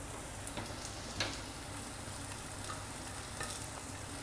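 Chicken with coconut and garlic gets stirred in a pan with the gas off, a soft steady sizzle broken by a few spoon scrapes and light taps, close and unhurried.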